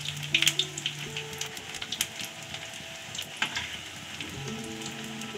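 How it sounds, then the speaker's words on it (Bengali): Drumstick flower fritters (sojne phul bora) coated in rice flour fry in hot oil with a steady close crackle and sizzle. Sharp pops stand out near the start over a faint background hum. "লাল লাল করে বড়াগুলো ভেজে নেব।"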